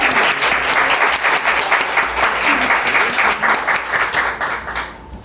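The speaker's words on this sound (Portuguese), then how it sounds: "Uma salva de palmas." A room full of people applauds a certificate being presented at a bar association event, brisk clapping holding strong and loud before tapering off sharply at the very end.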